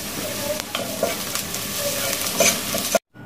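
Sliced onions frying with turmeric and spices in a pan hiss and crackle up close, with repeated stirring scrapes, before the sound cuts off abruptly near the end.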